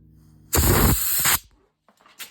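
Compressed air blown hard through a small engine carburetor during cleaning, a loud close hissing blast lasting under a second, then a brief fainter puff.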